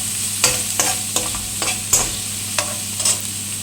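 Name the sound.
onion and garlic sautéing in pan with mustard seeds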